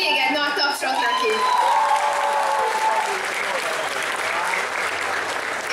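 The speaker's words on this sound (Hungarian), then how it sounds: "Szóval még egy nagy tapsot neki!" A cosplay convention crowd applauds a contestant with full, steady clapping, a few cheers and whoops near the start, and the applause gradually settling.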